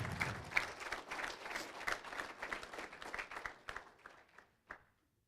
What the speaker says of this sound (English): Another round of applause, everyone, for Bill Westhoff.